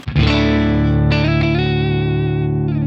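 A sustained electric guitar chord rings out clean through a Fender Deluxe Reverb amp, then a few more notes are picked over it, ringing with a touch of reverb and shimmer.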